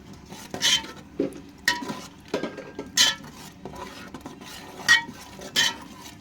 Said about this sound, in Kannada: ಕೊತ್ತಂಬರಿ ಮತ್ತು ಪುದೀನಾನ ಪೇಸ್ಟ್ ಮಾಡ್ಕೊಂಡು ಹಾಕ್ಕೊಂಡು ಚೆನ್ನಾಗಿ ಮಿಕ್ಸ್ ಮಾಡ್ಕೊಂಡು